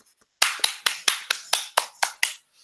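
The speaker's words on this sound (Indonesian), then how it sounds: "Tepuk tangan dulu teman-teman" Classmates in a small classroom clap briefly, about nine sharp, distinct claps in a slightly uneven rhythm after a moment of quiet, close and clear with no voices.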